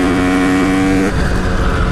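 A 50cc enduro motorcycle engine revs hard and close, holding a loud, buzzing high-pitched tone before the pitch drops and roughens as the throttle eases, with no talk over it.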